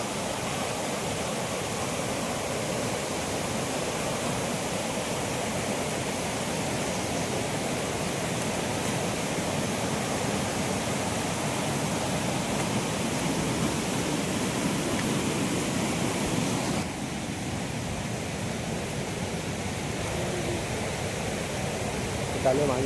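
Water flows strongly at a crab-catching spot, a steady broadband rush that holds evenly throughout and drops slightly in level near the end.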